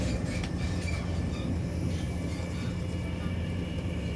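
A train runs at speed, heard from inside as a steady broadband rumble and rush with no distinct clatter.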